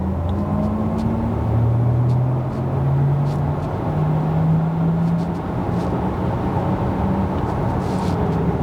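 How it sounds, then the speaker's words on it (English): A 2020 Porsche Taycan Turbo S electric car drives along with a steady low road rumble, as a faint motor whine climbs in pitch and steps subtly as it shifts into second gear, with no talking. "let's hear the second gear activate"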